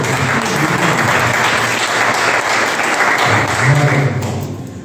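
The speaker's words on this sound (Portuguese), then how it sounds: "Você pode aplaudir a Jesus então?" A church congregation claps for Jesus during a Brazilian miracle service, a dense, loud round of applause filling the hall and tapering off at the end.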